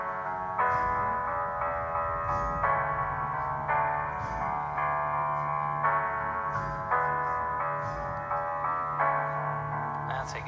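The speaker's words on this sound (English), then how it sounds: "So if you want to imitate that in the piano, which I suggest you do, it's a nice sound, just do that rhythm in the bass." Piano chords ring out over a bass line pulsing in a triplet rhythm, the repeated groups of notes falling evenly at a moderate, fairly quiet level with no talking.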